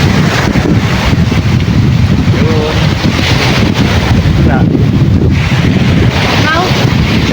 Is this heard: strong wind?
yes